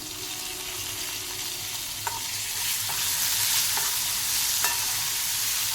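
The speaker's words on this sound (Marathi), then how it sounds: "आता हे छान परतून घ्यायचं" Potato thecha ingredients with plenty of salt and coriander being stir-fried in a pan, a steady close sizzle with occasional light clinks of the spatula against the pan, no voices.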